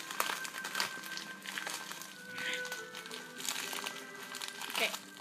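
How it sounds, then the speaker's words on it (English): A package sealed with lots of sticky tape is pulled and torn open, giving continuous close crinkling and crackling with sharper tearing bursts, under a voice and soft background music. "So I'm gonna open it. And as usual, it's really hard to open. Got so much sticky tape."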